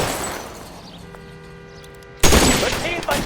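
Gunfire in an L.A. Noire shootout: after a quiet stretch with a faint tone, a burst of loud rapid shots erupts and continues to the end.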